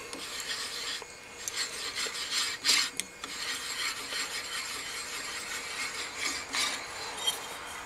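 A hand tapper cuts threads into a scrap steel plate, giving a steady rasping, grinding scrape with periodic louder bursts as the tap turns and backs off, close and alone without talk.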